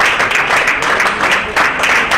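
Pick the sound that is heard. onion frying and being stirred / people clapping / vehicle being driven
people clapping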